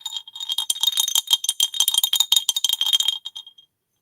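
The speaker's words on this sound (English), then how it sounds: "But it is a clay bell." A Japanese clay bell is shaken and rung in quick, irregular bursts of bright clinking rattles for about three seconds, close and fairly loud, then the ringing fades out into silence.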